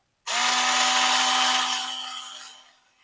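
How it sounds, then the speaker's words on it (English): A power drill bores into the metal water tank body of an Eureka Models AD60 Garratt model locomotive during a repair, a loud whining grind with a steady tone that starts abruptly and fades over about three seconds. "I don't want to snap the drill bit"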